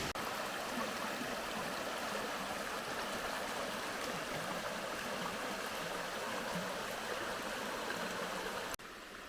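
Rushing water of a mountain waterfall stream in the Bystrytsia valley pours in a steady, loud, continuous roar from start to finish, with a brief break near the end.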